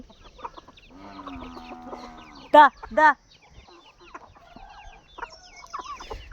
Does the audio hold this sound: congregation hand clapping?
no